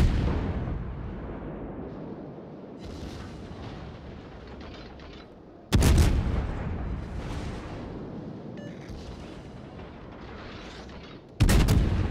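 Tank cannon fire from a video game, firing armor-piercing rounds: three heavy booming shots spaced several seconds apart, each followed by a long rumbling decay.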